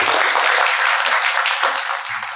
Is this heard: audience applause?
yes